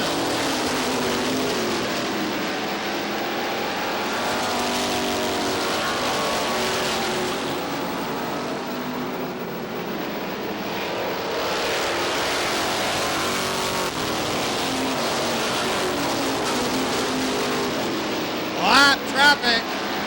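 Supermodified race cars circle Star Speedway in a 1990 International Supermodified Association event, a continuous roar of several engines rising and falling as the pack passes through lapped traffic, with an announcer talking over it throughout.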